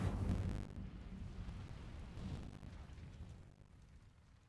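A roaring, whooshing burst of the Incendio fire spell from a Harry Potter video game, loud at the start and then settling into a rumbling, windy tail that fades over a few seconds.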